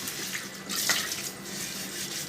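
Tap water runs steadily into a sink while a new clay pot is rinsed beneath it. The splashing is close and continuous, with a brief surge in the middle.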